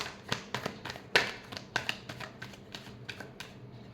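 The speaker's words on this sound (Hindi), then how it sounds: "Last shuffle." Tarot cards are shuffled in a quick, close series of crisp riffling taps, about a dozen in a steady rhythm, with no talk.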